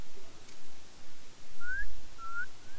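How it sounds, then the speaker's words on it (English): A short two-note whistle from the Spider-Man 2 video game, two clear rising whistles repeated close together over a quiet background. "Try a whistle."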